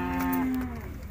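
A single cow at a cattle livestock market in Urzhar lets out a loud, close moo that slides downward in pitch and fades after about a second, over faint market background.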